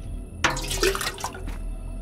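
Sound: watering plants in a horror video game

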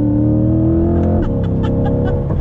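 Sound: 2020 Chevrolet C8 Corvette engine revving

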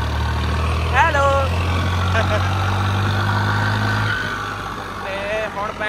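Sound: New Holland 3630 tractor engine running

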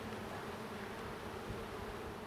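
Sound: honeybees buzzing in an open beehive

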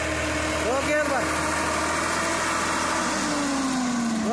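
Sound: 32 hp ACE DI 854 tractor engine idling

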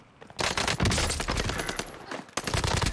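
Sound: gunfire from the video game Warzone

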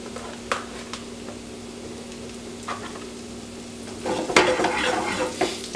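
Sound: mushrooms sizzling as they are added to the pan

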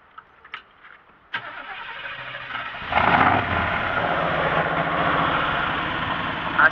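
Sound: Chevrolet V8 350 engine starting in Chevrolet Blazer

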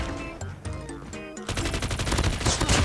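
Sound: Peacekeeper MK2 gunfire in video game Call of Duty Mobile

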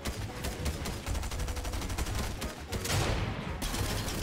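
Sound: gunfire in the video game Fortnite

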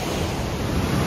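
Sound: river rapids wave train

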